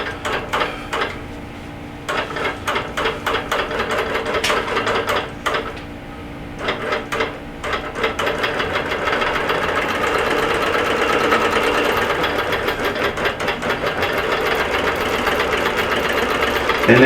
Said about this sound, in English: the machine is stitching